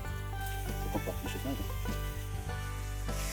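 Flour-dredged rabbit pieces sizzle and crackle steadily in oil in a hot pan, a constant frying hiss beneath a low background hum and faint voice.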